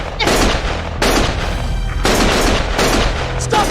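Heavy gunfire in the video game Lost Judgment, a loud, dense barrage of shots with repeated booming bursts across the whole stretch.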